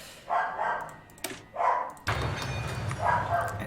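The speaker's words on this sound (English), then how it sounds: "And that's my dog, barking because I'm doing voices for characters." A pet dog barks repeatedly nearby, several separate loud barks spaced out over a few seconds, with a thump in the middle.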